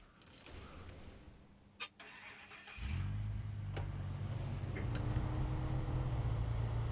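A scout vehicle's engine cranks and catches in Snowrunner, then settles into a steady droning idle and pulls away with a gradually rising hum, after quiet ambient rustling and a small clunk.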